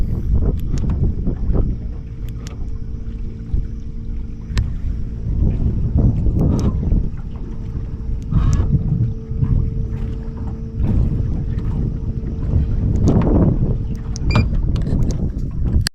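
A boat cruises with the current, its steady engine drone and low tonal hum running continuously. Wind buffets the microphone and water washes along the hull throughout.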